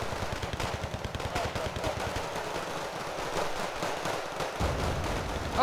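Rapid, continuous battlefield fire from a missile fire team hitting infantry in Wargame: Red Dragon, dense rattling bursts layered over a steady rumble, sustained and fairly loud with no pauses.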